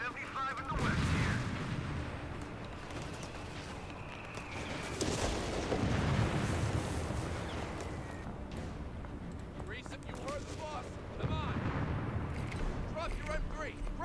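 Battle sounds from Company of Heroes 3 on the Italian front: rumbling artillery blasts and rattling machine-gun fire roll in dense, overlapping waves, with voices talking over the din.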